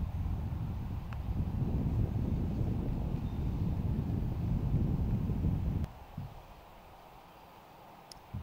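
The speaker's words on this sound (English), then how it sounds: "A little bit of wind here." Low rumbling wind buffets the microphone in a sustained gust on a golf course, then drops off abruptly to quieter outdoor ambience with a few small knocks.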